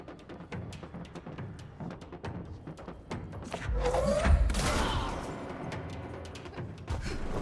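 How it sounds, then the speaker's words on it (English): Rocket explosions in the video game Control burst like fireworks, a swelling cluster of thuds and crackling blasts building in the middle of the stretch over a backdrop of rapid clicking. "I love that the rockets sound like fireworks."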